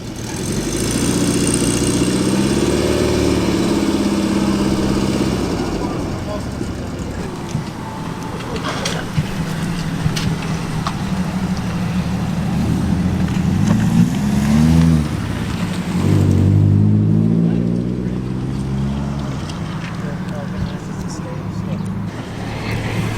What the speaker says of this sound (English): This time a VW Beetle drives into view, complete with lovely period roof rack.